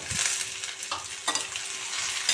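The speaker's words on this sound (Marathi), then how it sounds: "ते तेलामध्ये मस्तपैकी जरा परतून घ्यायचं." Garlic, green chilies and sliced tomatoes sauté in oil, giving a steady soft sizzle with occasional stirring scrapes, close and fairly quiet.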